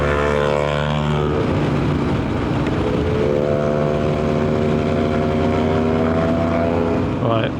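Motorcycle engine droning steadily while riding a mountain road in Romania, a loud close hum whose pitch rises and falls with gear changes and throttle, wind noise mixed in.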